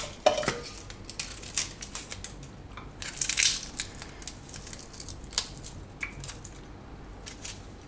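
Onion skin is peeled off by hand in a home kitchen, a string of crisp dry crackles and snaps, close and quiet, with a louder papery rustle near the middle.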